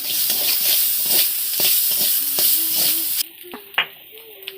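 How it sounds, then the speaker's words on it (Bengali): Spices and ground ginger frying in a pan at home, a steady broadband sizzle for about three seconds with stirring clatter, then dropping away to quieter pan sounds, with a voice speaking softly over it. "এটা ভেজে নিচ্ছে"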